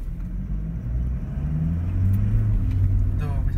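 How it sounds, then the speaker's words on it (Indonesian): Rough, coarse engine note of a Toyota Fortuner pulling in first gear with power mode engaged, a steady close low rumble that builds slightly, heard under a voice. "Tuh, bisa dilihat kan suara mesin yang cukup kasar, bisa didengar"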